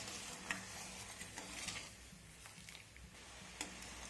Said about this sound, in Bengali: এখানে দেখুন বন্ধুরা, জল ফুটতে শুরু করেছে।